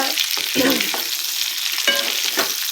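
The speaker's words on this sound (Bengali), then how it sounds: "মানে কপিগুলো ভাজা হয়ে গেছে" Cauliflower pieces fry in a pan while being stirred, a continuous close sizzle with scraping stir strokes and no voices.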